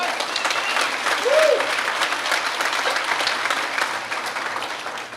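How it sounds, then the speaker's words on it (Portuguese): A crowd claps steadily throughout, dense and sustained applause filling the room at a talk, with a brief voice rising over it near the start. "pode aplaudir"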